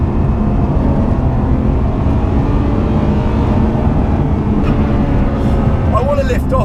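A Ferrari 599 GTO's engine roars loud and steady through a downshift, a dense mechanical drone that holds throughout with a sharp rise in pitch near the end.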